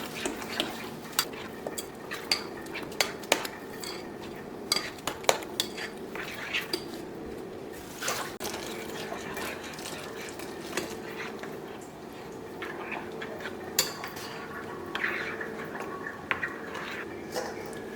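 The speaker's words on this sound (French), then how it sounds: "Je vais mélanger ceci bien ensemble avant de rajouter de l'eau." Pounded pineapple and ginger are mixed together in a bowl, giving repeated light clinks and scraping knocks of a utensil against the dish, irregular and close, with no talking.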